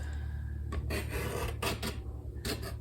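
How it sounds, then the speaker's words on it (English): A blade scrapes paint off a canvas in short rasping strokes, about four close, loud passes with brief pauses between them, and no voices. "I'm gonna scrape it off."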